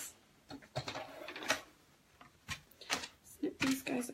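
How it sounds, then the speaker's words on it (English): Fabric scissors snip quilt pieces apart in a series of short, crisp cuts, close and moderately loud with rustling of cloth between snips, and no voices. "Snip these guys apart."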